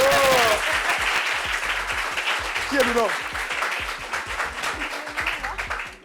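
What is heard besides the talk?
audience applause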